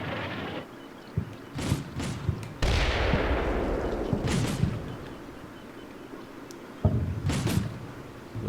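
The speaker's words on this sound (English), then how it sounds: "Those shells seem to be a little close here." Artillery shells land nearby in the wargame Combat Mission Black Sea, heavy booming impacts arriving at intervals, each followed by a long rumbling decay, with sharp distant cracks of gunfire scattered between them.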